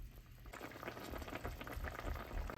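Egg vada curry simmers in a pot on a home stove, a soft, steady bubbling and popping that carries on without pause, close but quiet.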